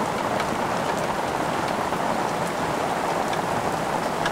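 Heavy rain pours steadily on open savanna, a dense, even hiss of drops with no pauses, loud and close all the way through.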